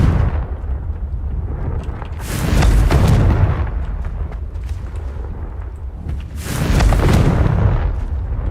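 Blasts from the Confringo fire spell in Hogwarts Legacy, two deep booming bursts a few seconds apart, loud and close, each swelling and then rumbling away over a low steady background.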